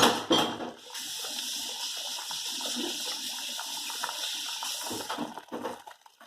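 Water gushes from a sink tap over pig's feet being washed for Hong Kong-style braised pig's feet, a loud rushing stream with splashing that drops off near the end.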